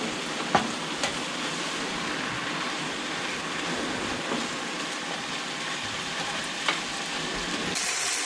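Vegetables sizzle steadily in a pan as they cook down toward well done, a continuous close crackling hiss with a few brief pops and no talking.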